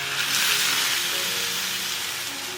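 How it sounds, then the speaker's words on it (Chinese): Boiling water poured into a wok of radish stir-frying in shrimp oil with ginger slices and shrimp heads, a loud steady steaming sizzle and hiss that swells early and then settles, heard alone without talk. "萝卜翻炒片刻了，加入开水"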